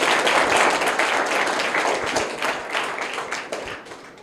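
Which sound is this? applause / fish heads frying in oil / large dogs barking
applause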